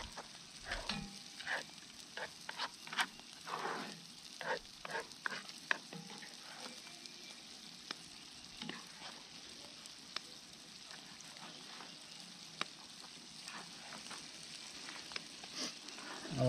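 Ground beef, 80-20, sizzles and crackles as it browns in a Dutch oven at a campsite, with scattered scraping clicks of a utensil pushing the meat aside over a steady, fairly quiet frying hiss.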